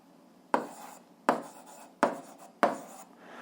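Someone writes an algebra solution by hand: four distinct scratchy strokes come in a steady rhythm, each a sharp close onset fading quickly, with no speech.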